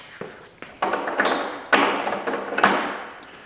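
Welding magnets clank onto the sheet metal of a K10 truck passenger bedside, several sharp metallic taps and thuds at irregular intervals, each ringing briefly before fading, up close with no talking.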